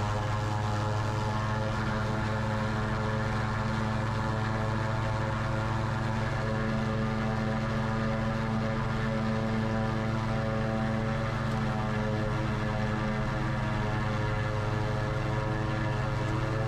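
Light aircraft engine held at 4,000 RPM during a run-up check: a steady, loud propeller drone with stable harmonic tones throughout, unbroken and with no talk.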